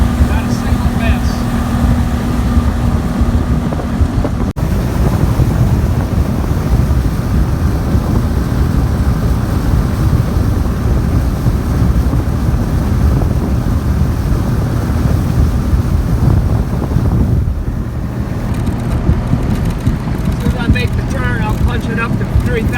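An Evinrude ETEC 150 HO outboard on a Glastron CVX16 runs across a Michigan lake, a loud, steady low drone with continuous wind and water rush throughout, shifting tone briefly near the end.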